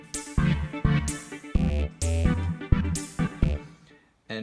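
Playback of an electronic synth track from a Roland MC-101 groovebox: punchy kick and snare hits, bright hi-hats and layered synth tones in a busy rhythmic pattern that cuts out briefly near the end.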